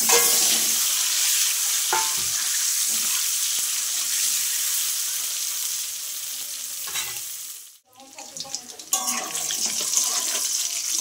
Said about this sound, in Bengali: আমি ডিমটা আগে ভেজে নেব।